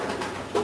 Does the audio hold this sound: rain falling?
no